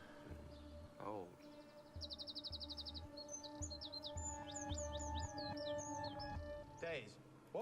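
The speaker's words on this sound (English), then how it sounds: "how come I can still hear birds?" Birds chirp and tweet in quick repeated phrases, faint and somewhat distant, over a low background hum with brief rustling.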